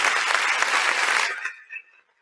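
An audience at a youth dialogue gathering in Lagos applauds a speaker. The dense clapping runs loudly for over a second, then cuts off sharply, leaving only a faint tail.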